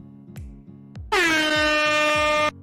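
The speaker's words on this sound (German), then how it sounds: "Tröte geht raus." A loud, sustained air horn blares for over a second in the auto battler game Teamfight Tactics, following a few soft, rhythmic thumping game effects.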